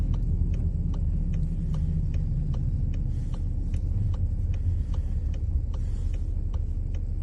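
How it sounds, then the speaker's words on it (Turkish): Low steady engine rumble inside a Volkswagen Passat 1.6 with a DSG gearbox as it comes to a stop and shifts down to first gear, with faint regular ticking over the continuous drone. "Durduğumuz anda birinci vitese düşüyor."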